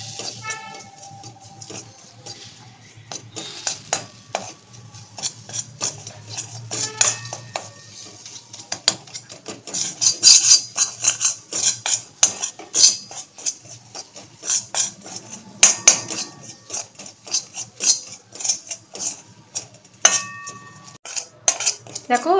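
Kashmiri red chili powder is stirred into butter in a pan, with repeated clinks and scrapes of a metal spoon against the pan in an uneven rhythm, close and clear.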